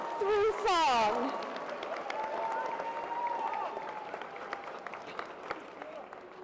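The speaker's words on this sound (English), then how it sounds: "Please, let's give them a round of applause as they share their hearts through song." An audience claps for a faculty choir at a school gala. A voice speaks briefly at the start, then dense, steady applause fills the hall for several seconds.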